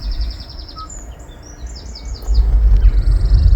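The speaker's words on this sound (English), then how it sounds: "we will go to media, sounds of nature, okay, and we will blast" Recorded nature sounds played through upgraded Hyundai Ioniq car speakers: birds chirp and tweet in quick trilling bursts over a low rumbling hum, with a fuller burst of low noise near the end.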